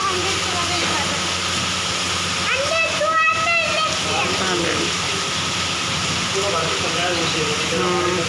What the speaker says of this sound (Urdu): بارش ہوئی ہے